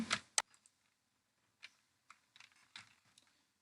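A short burst of keystrokes on a computer keyboard: a couple of sharp clicks, then scattered quieter taps spelling out a word, close and isolated in a quiet room.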